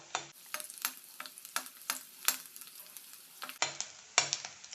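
Chopped garlic, about four or five cloves, frying in hot oil in a pan, with a steady bright sizzle broken by repeated clinks and scrapes of a stirring spoon, close and fairly loud, no voices.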